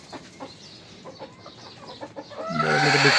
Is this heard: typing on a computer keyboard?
no